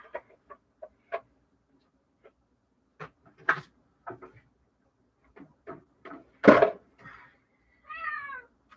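A cat meows in short, scattered calls separated by quiet gaps, with one louder cry near the end, heard close in an otherwise quiet indoor room.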